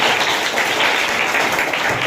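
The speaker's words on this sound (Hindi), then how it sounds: "ताली बजा दो इनके लिए।" Classroom audience clapping for students, a dense, even burst of many hands applauding close by for the full two seconds.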